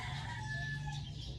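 A chicken clucks faintly in the background at a rural home, with a soft continuous low hum underneath and no talking.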